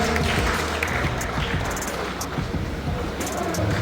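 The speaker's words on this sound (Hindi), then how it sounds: "जोरदार ताली के साथ डीएन2 साहब का अभिवादन करें।" A conference audience at a railway institute claps in a loud, continuous burst of applause that runs throughout, with voices mixed in over the clapping.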